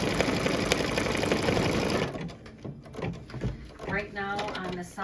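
Embroidery machine stitching out a Kimberbell Be Mine design, a loud fast steady mechanical whir and rattle that drops to quieter clicking halfway through, with a person talking over the latter part.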